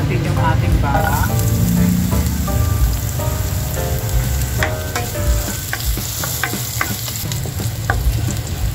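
Garlic frying in cooking oil in a pan for lechon kare-kare, a steady close sizzle with scattered crackles and pops and some stirring clatter throughout, no talking.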